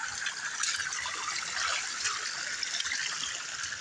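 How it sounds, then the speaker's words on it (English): Water trickling and running out of a hillside near a pond, a steady, close splashing flow with no breaks and no voices over it. "All that water coming out the hill."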